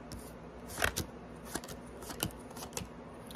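A tarot card deck being shuffled and cut by hand, a series of short papery riffles and taps, close and fairly quiet, with no talking.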